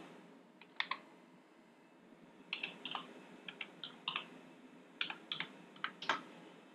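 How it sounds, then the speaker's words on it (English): Typing on a computer keyboard to enter a command in a Linux console, heard as short bursts of close, crisp key clicks with pauses between them, no talking. "And then type in /startGFX."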